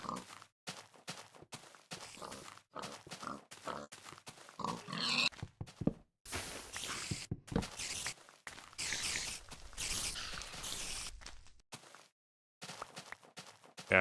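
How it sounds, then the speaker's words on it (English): Minecraft pigs grunt and oink while burning, short close grunts in choppy bursts with footstep-like game sounds between them and brief silent gaps. "It's so weird to see the pigs burning and yet not dropping cooked pork."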